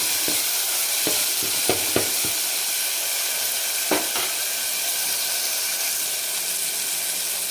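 Coriander leaves fry in hot oil in a pan as a tempering for Marathi varan (dal), giving a loud, steady sizzle and hiss close up with a few soft stirring knocks and no talk.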